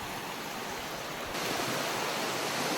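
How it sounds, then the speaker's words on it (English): Ice-cold mountain creek water flowing steadily in a secluded spot, a continuous broadband rush that swells a little louder partway through, with no voices. "I'll fill it up with water from the creek up here."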